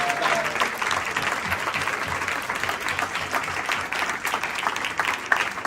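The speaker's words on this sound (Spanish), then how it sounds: "quería pedir un aplauso porque la verdad que nos armamos una asamblea bien interesante" Audience applause at an assembly in a cultural centre, a steady crowd of hands clapping close and fairly loud, lasting the whole stretch with faint voices mixed underneath.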